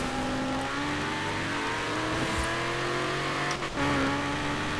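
A car engine in the racing game Forza Horizon 4 drones steadily at high revs, loud and continuous with a brief dip and rise near the end, with no talking over it.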